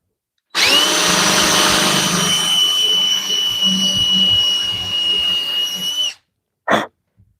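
A small drill bores a pilot hole for a countersink while building a wedge vise. It gives one steady, close, high-pitched whine lasting about five and a half seconds, then cuts off and is followed by a brief short burst.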